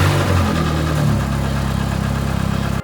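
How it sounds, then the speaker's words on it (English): A 1986 Dodge Charger engine runs close and loud, idling as a steady low rumble with an even pulsing rhythm, then cutting off abruptly at the end, with no talking. "the engine's running"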